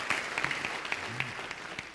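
An audience applauds a speaker at a festival interview, a steady patter of many hands clapping at moderate volume for a couple of seconds.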